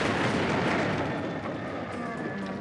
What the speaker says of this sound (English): When that building and chimney come down